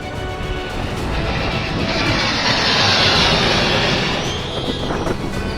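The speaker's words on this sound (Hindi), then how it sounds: "आसमान में दुश्मन को अपनी ताकत का एहसास कराते ये राफेल लड़ाकू विमान है।" Rafale fighter jets fly overhead during an Indian Air Force exercise, giving a loud, steady roaring jet rumble that swells to a peak near the middle and then slowly fades as they pass.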